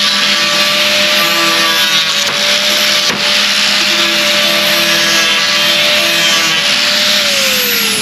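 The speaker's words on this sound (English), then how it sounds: "Now you can use the grinder to shape and contour." An angle grinder shapes and contours fiberglass, a loud, continuous high-pitched whine with steady grinding noise and small shifts in pitch as the tool loads and eases off, heard close up and alone.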